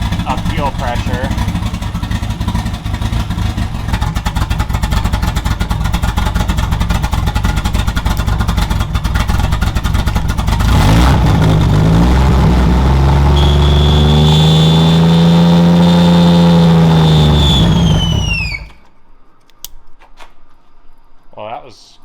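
2JZ engine swapped into a BMW E36, loud and close, chattering at a rough, uneven idle before revving up into a rising, then falling whine and cutting off, leaving quiet background noise.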